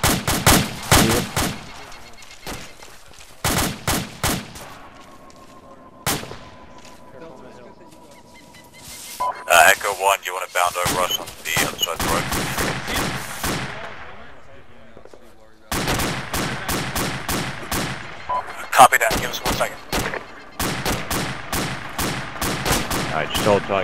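Gunfire in the military video game Arma, sharp rifle shots in quick volleys and scattered single cracks, fairly close and loud, with quieter stretches and some voices in between.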